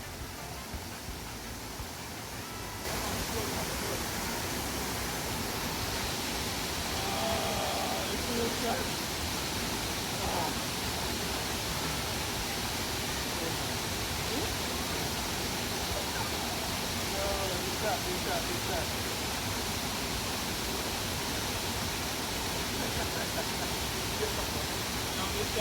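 A waterfall hidden along a hiking trail in St. Andrew, Jamaica, pours as a dense, steady roar of rushing water, loud and unbroken after a quieter first few seconds.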